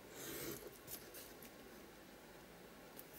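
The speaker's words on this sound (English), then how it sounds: "I'll just trim off the sides." Scissors trimming around printed paper words, a soft close rasping snip and brush of paper with no talking.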